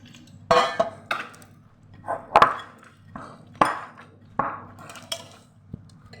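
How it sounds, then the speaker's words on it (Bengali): Pakora batter being mixed in a metal pan, giving repeated clinks and scrapes of a utensil against the pan in an irregular rhythm, close and fairly clear with no talking. "দেখুন বন্ধুরা, এটাকে আমি ভালো করে মিক্স করছি।"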